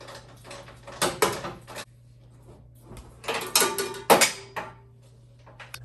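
Bolts being removed from a vehicle fender, with irregular metallic clanks, ratcheting rattles and tool handling in bursts over a low steady hum.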